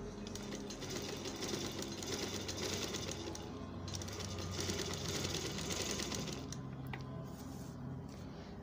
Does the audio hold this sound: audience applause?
no